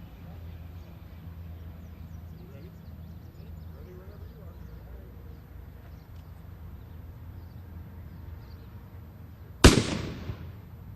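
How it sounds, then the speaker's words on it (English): A line-throwing gun fires its brass projectile once near the end, a sharp loud bang that trails off into a decaying rumble, after a stretch of quiet outdoor background. "Fires a line across, and depending on how far your line is, or how far your distance is, how much the line will go off."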